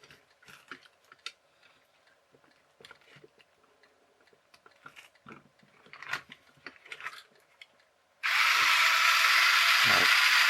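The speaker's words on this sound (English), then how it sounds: "There's the little pump that's driven off the motors." A small motor-driven air pump on a remote-control Christmas train set whirs into life after a stretch of quiet ticks and mechanical clicks, then runs as a loud, steady close-up buzz to the end.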